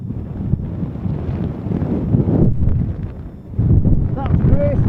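Strong wind buffets the microphone on a Lake District fell summit near Lord's Seat and Barf, loud rumbling gusts that swell and drop, with a voice speaking underneath.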